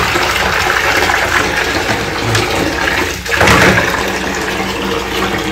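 Water runs steadily from a tap while a game controller is cleaned, a continuous close splashing hiss with a brief surge and dip near the middle and no talking.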